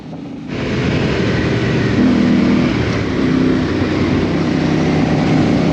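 A vehicle drives on a blacktop road near Pretoria, its engine a steady close rumble with wind buffeting the microphone, rising slightly as it picks up speed.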